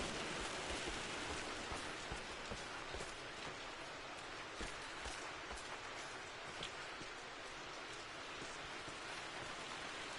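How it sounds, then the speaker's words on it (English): Steady rain in the video game Rise of the Tomb Raider pours down in a dense, even hiss with scattered droplet taps, continuous and close, no voices. "That rain's a bit loud."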